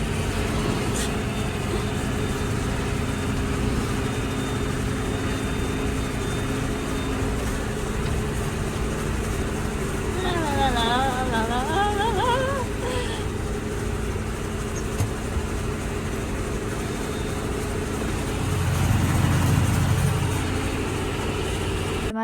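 A farm tractor runs through a wet field during the first fertilizer pass of the season, a steady low engine drone and rumble from the cab. A heavier surge comes near the end, with faint sounds over the top.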